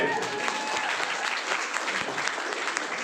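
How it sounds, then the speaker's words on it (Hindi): An audience at an RCM business talk claps loudly and continuously, a dense patter of hands filling the room from start to finish. "कितना जोर से ताली बजाओ, जोर से।"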